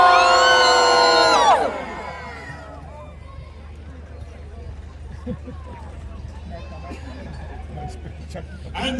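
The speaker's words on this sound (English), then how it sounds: "Let's hear how loud they cheer" Crowd at a medieval festival joust cheering loudly for about two seconds, a burst of voices and whoops that cuts off into low murmuring and scattered calls.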